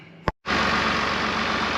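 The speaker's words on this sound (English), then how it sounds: "I finally got the tractor, had to pull start it with the backhoe, but got it started." Tractor engine, restarted by pulling it with a backhoe after its starter failed, catches after a brief pop and silence, then settles into a loud, steady running drone close by.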